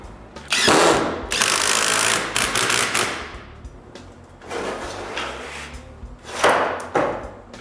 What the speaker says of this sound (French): Maintenant, je retourne sa perceuse à colonne